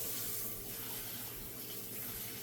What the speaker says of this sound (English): So when you turn on the water, you get it comfortable